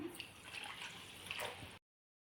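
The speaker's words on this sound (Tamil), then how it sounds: "இப்போ வந்து ஒன்றரை கப் தண்ணி ஊற்றிக்கலாம்" Water pours into a pot of rava semolina, a soft, low gurgling splash lasting under two seconds before cutting to silence.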